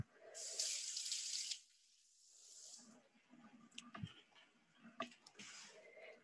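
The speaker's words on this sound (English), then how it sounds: "I'm messy, so I'll rinse my hands again." A kitchen tap runs loudly for about a second while hands are rinsed during egg muffin prep, then shuts off, leaving only faint handling clicks and clatter in a quiet room.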